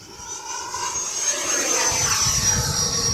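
A Freewing T33 RC model jet with takeoff flaps down makes a slow flyby, its ducted-fan whine loud and steady and swelling slightly as it passes overhead, with no voices.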